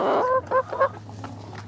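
Tiger chickens on a poultry farm give a few loud, honking fowl calls in quick succession at the start, then quieter clucking over a steady low hum.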